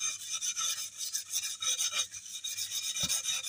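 Steady back-and-forth rasping of P500 sandpaper being rubbed by hand, close and fairly loud with a hissy, gritty texture and no talking.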